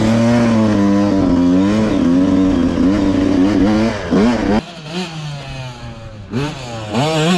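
A 125cc two-stroke motorcycle revs loud and close, its buzzing engine note rising and falling through repeated throttle blips, dipping briefly before climbing again.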